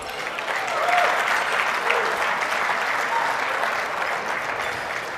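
Steady applause from a large audience at an awards event, thanking the sponsors, with dense continuous clapping that swells early and holds evenly for several seconds, with some faint voices in the crowd.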